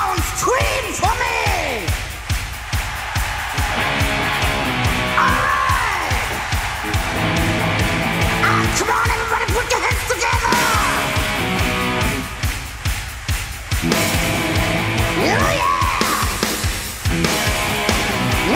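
A live rock concert crowd in Osaka screams and yells continuously, a loud dense roar of cheering and whooping with rhythmic clapping, swelling in waves throughout.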